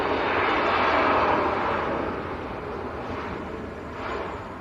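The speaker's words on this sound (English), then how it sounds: "This looks like Ryanair." Ryanair Boeing 737 MAX arriving at Manchester Airport from Shannon, a broad jet roar that swells early, then fades slightly and rises again near the end; no one talks.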